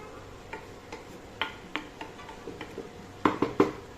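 Metal lid clattering onto a pan of cabbage being cooked, a few light clinks spaced apart, then a quick cluster of sharper taps near the end, all fairly faint and close.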